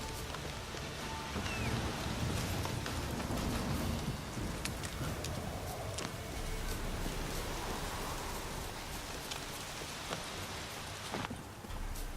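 Rain falling in the video game The Witcher 3: Wild Hunt, a steady wash of rainfall with hoof clip-clops and scattered sharper knocks mixed in, no speech.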